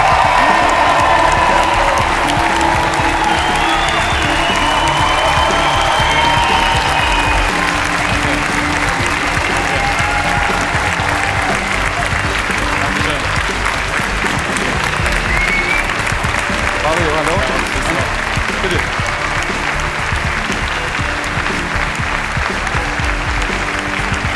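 Studio audience at a German TV talk show applauding a World Cup-winning football player, loud sustained applause with scattered cheers and whoops throughout.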